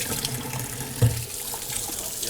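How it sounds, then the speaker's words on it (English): Tap water runs steadily into a sink as hands are washed, a soft, close, continuous splash with one small bump partway through. "guess I'll wash my hands"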